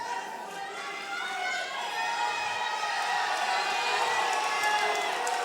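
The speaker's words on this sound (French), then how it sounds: "Amri Madani, très applaudi ici à Bobigny" Boxing crowd in Bobigny applauding and cheering fighter Amri Madani during a bout, a steady, dense wash of clapping and shouts that swells slightly toward the end.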